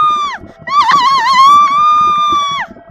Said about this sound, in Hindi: उसके बाद सकीना चिल्लाते हुए वहाँ से गायब हो जाती है और फिर कभी वापस नहीं आती।